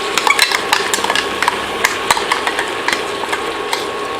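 A kitchen mixer grinder grinds mustard seeds, garlic and cumin for a drumstick stew, giving a steady close whirring drone laced with rapid rattling clicks of the spices hitting the jar, with no voices.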